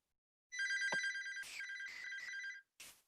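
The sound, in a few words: telephone ringing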